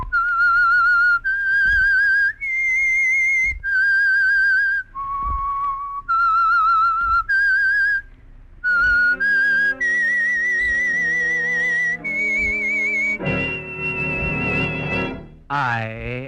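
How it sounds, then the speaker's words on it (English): A melodic whistled theme for The Whistler, the Signal Oil radio program, rendered as a sequence of clear sustained whistled notes, loud and close, ending in an orchestral-sounding swell. "That whistle is your signal for the Signal Oil Program"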